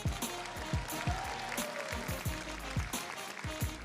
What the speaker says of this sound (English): Please give a round of applause for our labor community.